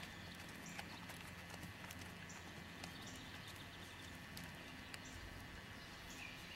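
Hooves of a ridden horse clip-clopping at a steady gait, faint and somewhat distant under outdoor background noise.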